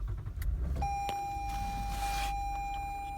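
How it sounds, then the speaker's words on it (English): A 2016 Toyota Highlander starting up: a quiet click and beep, then a steady chime tone holding under a low idling hum from inside the cabin. "I'll go ahead and start the car."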